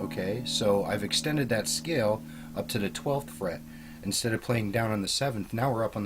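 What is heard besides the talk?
No everyday noise stands out behind the speech.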